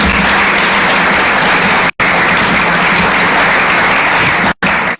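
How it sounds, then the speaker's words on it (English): Loud, dense applause fills the hall at a guide dog graduation ceremony, steady and sustained, cut by two brief dropouts. "So how about a big round of applause for them?"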